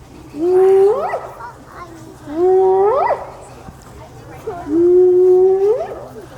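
Hyenas give three loud, close whooping howls, each a long call that rises in pitch, spaced about two seconds apart with quiet gaps between them.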